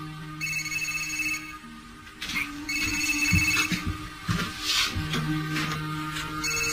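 A phone rings in repeated electronic bursts, separated by short gaps, with low background noise and no talking.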